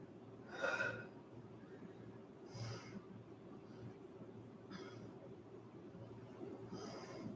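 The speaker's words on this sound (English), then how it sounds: "Inhale, exhale," Deep yoga breaths, a few slow audible inhales and exhales spaced a couple of seconds apart, soft and breathy over a steady low background hum, with no talking.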